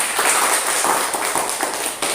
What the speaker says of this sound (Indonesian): Tepuk tangan dulu buat Nanda.